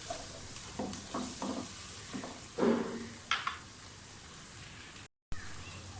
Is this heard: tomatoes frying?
yes